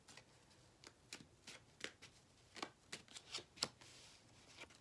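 Cards being shuffled close by, a rapid series of soft riffling snaps building toward the end, quiet and without speech.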